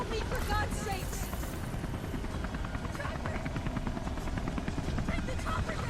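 A helicopter in the video game Beyond: Two Souls thrums with steady rotor chop and engine roar throughout, joined by a voice talking over the noise.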